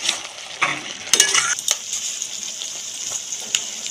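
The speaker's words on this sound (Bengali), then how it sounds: "একটু চিনি দিয়ে দিলাম, নাড়িয়ে নেবো চিনিটা দিয়ে" A spoon scrapes and stirs jackfruit and prawn curry with added sugar in a sizzling pan, a few clanks and scraping strokes early on, then a steady close frying hiss.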